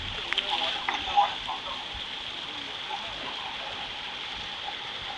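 A stream in St. John, Barbados, flows with a steady, even rush of water that continues throughout, with a few faint splashes near the start.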